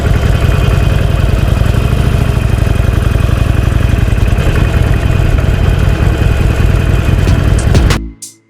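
A Harley-Davidson Iron 883 motorcycle idling up close, a loud, steady low-pitched thump that runs unbroken for about eight seconds and then cuts off abruptly as the engine shuts down.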